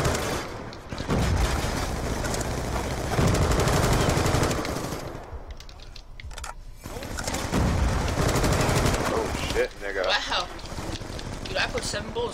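Sustained light machine gun fire in a video game rattles in long, dense bursts, loud and close, pausing briefly midway before further chattering volleys, with a voice talking over the action.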